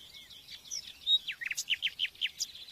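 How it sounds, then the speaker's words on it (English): A nightingale sings in an undisturbed cork forest after dawn, a rapid series of sharp, clear whistles and rising notes in quick bursts, close and bright against a quiet background. "In Britain, you seldom hear nightingales singing after dawn."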